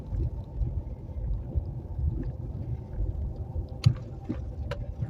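A vehicle travels over a rough, bad road, giving a constant low rumbling drone with a few sharp jolts and rattles near the end.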